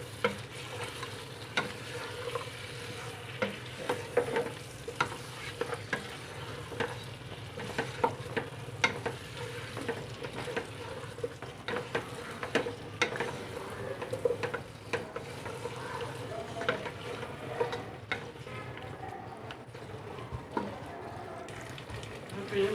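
Mutton and garlic frying together in a pot are stirred steadily, with a continuous sizzle and scraping spoon strokes throughout, heard close and moderately loud, without talk.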